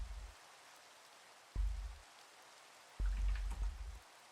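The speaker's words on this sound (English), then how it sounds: "Is it really going to start raining as I'm trying to wrap this up?" Minecraft rain comes in bursts, a soft hiss of falling drops that fades in and out three times, quiet and steady with no voices.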